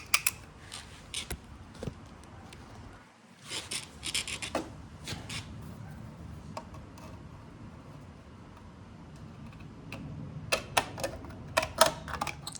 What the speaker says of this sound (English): so now I just gotta take some shears.